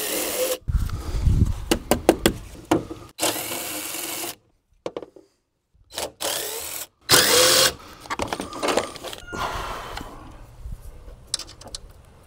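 Torx screw being unscrewed from an old lock mechanism on a storage unit, with bursts of power-driver whirring and ratcheting clicks broken by short pauses, close and fairly loud.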